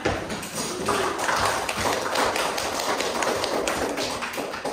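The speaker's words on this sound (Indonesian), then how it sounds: "Oke, aplaus semuanya." Classroom applause from students, a dense patter of many hands clapping together at moderate volume that continues steadily.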